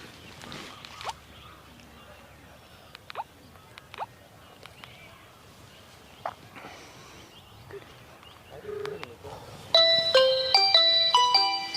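A mobile phone ringtone bursts out loudly near the end, a repeating melodic pattern of bright tones, following a quiet stretch with scattered small clicks and knocks.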